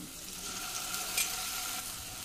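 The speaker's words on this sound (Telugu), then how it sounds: "ఆనియన్స్ కొంచెం బ్రౌనిష్ కలర్లో వస్తున్నాయి కదండి. ఇప్పుడు అల్లం వెల్లుల్లి పేస్ట్ వేస్తాను." Ginger garlic paste frying in a pan with browned onions gives off a continuous, even sizzle that stays fairly soft and close, with a brief slightly louder crackle midway and no talking.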